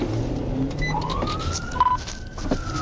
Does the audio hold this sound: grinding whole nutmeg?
no